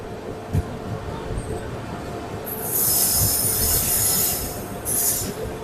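A passenger train on the Asarva to Udaipur line in Ahmedabad rumbles along steadily, and loud high wheel squeals build midway and recur near the end, with faint talk in the background.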